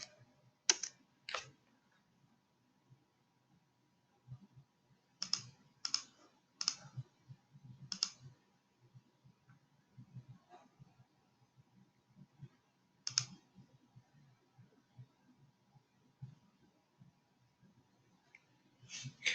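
Quiet, close typing and clicking on a computer keyboard and mouse come in short irregular bursts of crisp clicks separated by pauses, with a faint low hum beneath.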